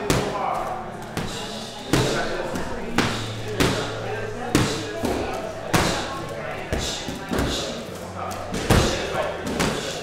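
Knee and elbow strikes land on a pad in a striking drill, about a dozen sharp thuds at an uneven, quick rhythm, close and loud, with a person talking between the hits.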